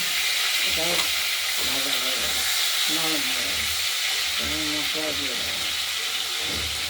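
Potatoes and tomato frying in a pan give a soft, steady sizzle and hiss close by, under a person talking intermittently throughout.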